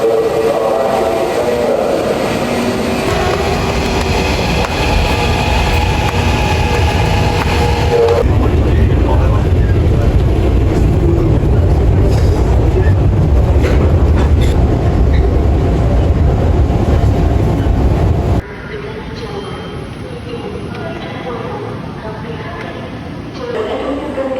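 A commuter train at Manggarai railway station in Jakarta gives a steady, loud rumble and rolling clatter that runs throughout, with station noise and voices mixed in; the sound drops somewhat for the final few seconds.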